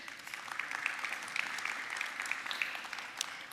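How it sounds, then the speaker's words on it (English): Steady applause from a panel discussion audience at an energy conference fills the clip, a dense wash of clapping holding at an even level throughout. "A round of applause, please, for Jude."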